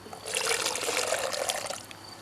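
Water is poured into a shaker holding creatine monohydrate powder, a steady close trickling and splashing stream that runs for about two seconds and then stops.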